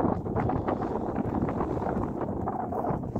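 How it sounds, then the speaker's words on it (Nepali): Strong mountain wind gusts above 3800 metres in Ruby Valley roar against the microphone in a low, continuous buffeting rumble with no talking. "एकदम वेगका साथ हावा चलेको छ।"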